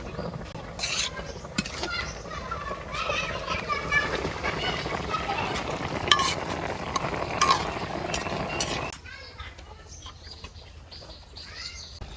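A spoon stirs vegetable curry in a pan on the stove, with a little water just added; a steady scraping and sizzling runs under the cooking, then drops sharply quieter near the end.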